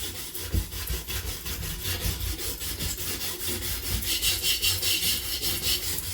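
Sandpaper rubs back and forth over a crud-covered piston from a Briggs and Stratton 5hp engine, a continuous close rasping scrape with steady rhythmic strokes, loud and alone.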